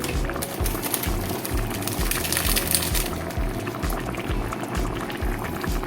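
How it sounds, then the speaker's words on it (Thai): Thai boat noodle broth boils hard in a pot, a dense, steady bubbling roar that continues loud and close for the whole stretch with no voices over it. "ต้มต้มกันไปนะครับ"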